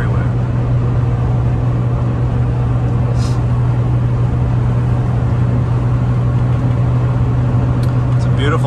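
2004 Mini Cooper accelerating onto a freeway, a steady engine drone and road roar filling the cabin at constant loudness, with a voice talking over it.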